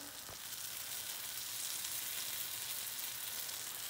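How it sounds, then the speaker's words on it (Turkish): Cheese-filled gözleme sizzling steadily in a pan, a continuous bright frying hiss with no talk over it. "İçine peynir de koyduğum için annemin peyniri kaynıyor"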